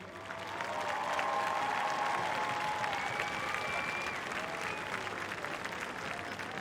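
Crowd applause at a Formula Drift event at Irwindale, honoring Matt Field and his team: steady, dense clapping that swells in and carries on at an even level throughout.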